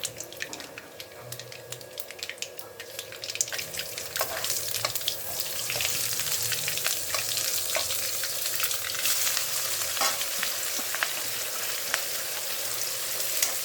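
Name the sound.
mustard seeds spluttering in hot oil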